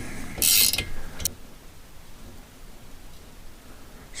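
A worn valve guide being pulled from an air-cooled VW 2-litre cylinder head by turning a nut, giving a brief loud grinding screech and a click near the start, then a quiet workshop hush.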